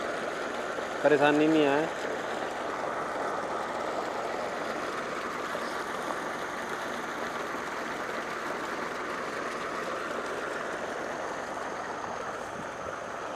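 A Mahindra 575 tractor runs at slow revs with no load, making a steady low engine drone throughout; someone speaks briefly near the start.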